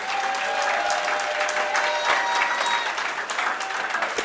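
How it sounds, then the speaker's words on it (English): Sustained crowd applause at a UNC political meeting in Chaguanas, a dense steady roar of clapping from a large audience, loud and continuous throughout. "Let's give the unions a round of applause"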